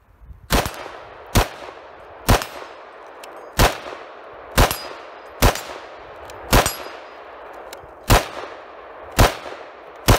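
A QBZ95 rifle firing M855 ammunition during a mud test, loud sharp single shots spaced about a second apart, each with a ringing metallic crack and short decay, ten or so in a steady rhythm.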